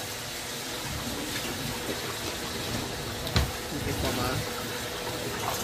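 Water running steadily into a pot being rinsed out in a kitchen, a continuous splashing gush with a brief clank partway through, and voices talking nearby.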